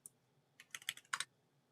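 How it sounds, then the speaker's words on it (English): A quick burst of typing on a computer keyboard: a cluster of close, crisp key clicks in rapid succession, quiet and alone with no voices. "Oh, where am I typing?"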